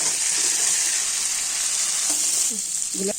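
Potatoes tossed into a hot pan with tomato and garam masala for a soybean dalna, giving a loud, steady hiss of frying close up, with a few faint stirring clinks toward the end and no talking.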